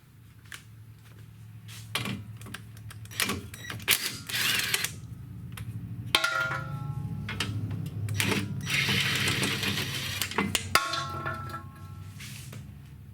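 Brake bolts come out of a 2004 Mitsubishi Eclipse GTS Spyder as a tool clicks and ratchets in close bursts, with metallic clanks and scrapes between stretches of rapid mechanical whirring.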